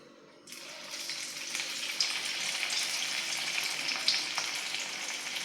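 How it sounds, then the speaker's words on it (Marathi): Sabudana vada fry in hot oil, a bright, dense crackling sizzle that starts abruptly and holds steady at close range, with a few sharper pops. "अशाच पद्धतीने बाकीचे वडे पण तळून घेत आहे"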